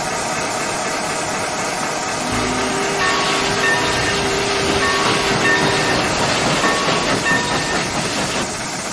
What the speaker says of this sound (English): I'll be driving the American Freedom Train.